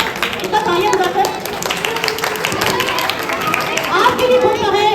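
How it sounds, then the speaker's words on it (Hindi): Audience clapping at a Jain religious game show, a steady patter of hands mixed with crowd chatter and voices talking over it throughout. "कृपया इतना तालियां बजाकर"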